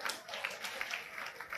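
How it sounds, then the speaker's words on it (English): A church audience applauds during a teaching service, giving a brief, dense wash of steady clapping with no talk. "Clap for yourself."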